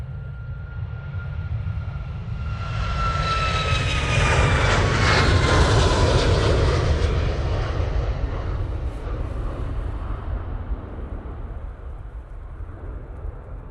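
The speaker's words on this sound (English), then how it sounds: "Ryanair now on the roll." A Ryanair airliner on its takeoff roll at Manchester Airport produces a rising, roaring engine rumble that swells to a loud peak midway, with a whining tone sweeping downward, then gradually fades as the aircraft moves away.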